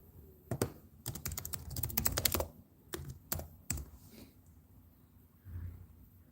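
Someone types on a computer keyboard in quick uneven bursts of clicks and key taps, with short pauses between bursts.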